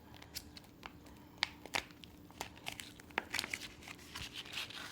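Adhesive 651 vinyl peeled and folded back over on a garden stone, soft crinkling and crackling with small sharp ticks scattered irregularly, quiet and close.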